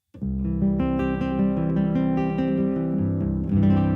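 Steady tonal strummed acoustic guitar chords through a piezo pickup with only the bass kept, a heavy, boomy low end and muted highs, ringing continuously and fairly loud with no voices.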